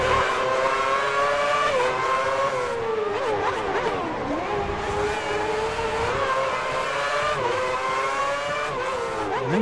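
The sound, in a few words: race car accelerating in F1 2010 video game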